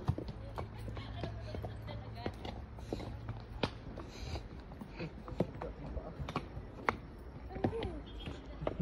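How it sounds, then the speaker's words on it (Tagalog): Horse hooves clip-clop in a steady, uneven run of close, sharp strikes, with people talking intermittently over the steps. "tumingin sa kabayo. Pag yan yung kabayo."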